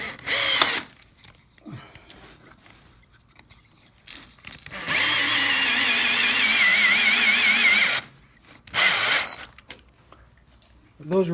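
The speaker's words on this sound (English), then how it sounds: "Those are drilled out on the drill press" A drill press bores holes for a homemade sit-stand tabletop desk, with a steady whirring run of about three seconds between shorter bursts and quiet gaps where someone talks.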